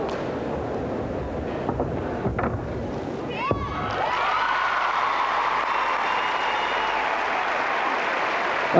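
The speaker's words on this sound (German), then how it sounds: "dass diejenige, die im Moment führt, jetzt auch noch klatscht" Applause at the 1993 World Gymnastics Championships horse vault final, the leading gymnast joining in, a steady wash of crowd clapping in a large arena that swells louder partway through, with scattered thumps and no talk.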